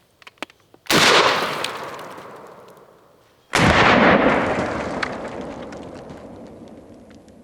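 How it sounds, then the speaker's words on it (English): Two loud, close shotgun blasts from a Mossberg 500 firing double-aught buckshot at a cheap armor target outdoors, each a sharp boom trailing off in a long echoing decay, about 2.6 seconds apart. "Double-aught buckshot out of the Mossberg 500."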